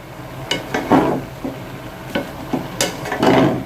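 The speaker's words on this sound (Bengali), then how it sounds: "এখন আমি ঢাকনাটা উঠিয়ে একটু নাড়াচাড়া দিয়ে দিব" A lid comes off a pot of mixed vegetable curry with pumpkin and the contents are stirred, giving several soft scrapes and clinks of a spoon against the pot at irregular intervals over a faint low sizzle.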